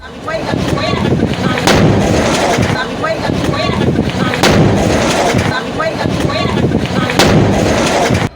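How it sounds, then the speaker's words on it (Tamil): A gas cylinder blows up at a samosa shop in Tirunelveli at midday, giving loud, booming blasts that recur about three times over a continuous noisy roar. "நெல்லையில் சமோசா கடையில் சிலிண்டர் வெடித்து சிதறிய காட்சிகளே இவை"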